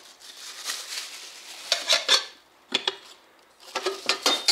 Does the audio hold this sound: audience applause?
no